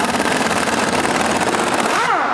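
An engine runs hard and steady with a dense mechanical roar, then the pitch sweeps as it revs, loud and close.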